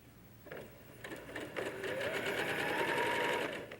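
A sewing machine starts up and runs in a fast, even mechanical patter, stitching quilt strips together at close range before settling into steady whirring.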